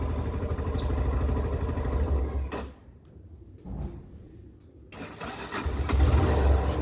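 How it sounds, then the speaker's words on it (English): A car engine cranks and fires after an oil change, first running rough, then dropping briefly to near quiet before catching and settling into a steady, close idle. "So let's give it a crank again, and let's try if it works once more."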